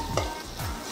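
Fish masala is tossed in a hot pan, a couple of quick scraping swishes over steady close sizzling.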